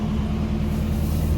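Toyota Crown engine idling just after a cold start with slightly raised revs, a steady low rumble with a constant hum, close and even throughout, no talk.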